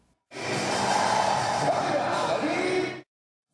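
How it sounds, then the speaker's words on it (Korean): Crowd roaring and cheering in a gymnasium during a contest rolling big red and yellow balls, a loud, sustained wash of voices that starts abruptly and cuts off after about three seconds. "빨간색과 노란색 등 대형 공을 굴리는 대항전이 펼쳐질 때는 함성 소리가 더욱 커집니다"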